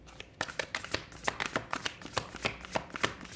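Tarot cards are shuffled by hand in a quick run of soft, papery riffles and taps, close and quiet, with no other sound.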